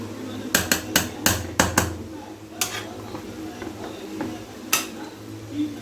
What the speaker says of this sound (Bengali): এখন ভালো করে মিক্স করতে হবে সবজিগুলো একদিকে হয়ে আছে